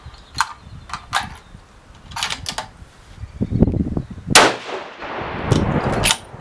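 A 7mm Remington SAUM rifle firing a 180 grain hybrid load gives a single sharp, loud report midway through, preceded and followed by scattered small clicks and clanks.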